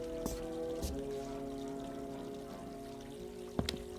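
Tap water runs steadily in an audio drama scene, a continuous pouring trickle with a low hum beneath and a few sharp clicks and knocks.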